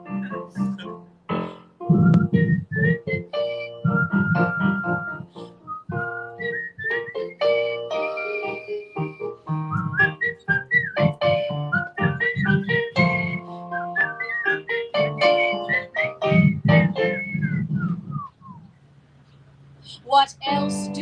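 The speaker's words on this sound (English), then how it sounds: "whistling seems to brighten up their day" People whistle a bright, melodic tune in a concert performance, the whistled line weaving over instrumental accompaniment before a brief pause near the end.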